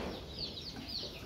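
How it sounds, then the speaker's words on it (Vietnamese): Small-caged chickens on a goat-breeding farm in Ba Tri, Ben Tre, clucking in a continuous low chatter, fairly faint and close, with no talk over them. "Gà nuôi nhốt lồng nhỏ đó"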